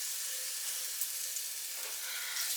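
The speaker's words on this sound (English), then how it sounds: "let me put in just a little bit of garlic" Garlic sizzles in a hot pan as it is added, a steady, close, bright frying hiss that holds evenly throughout with small crackles and no talking.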